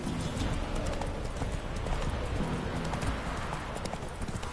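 Roach, the horse in The Witcher 3, gallops in a steady rapid clip-clop of hooves that stays loud and close the whole time, set against a dense backdrop of game sound.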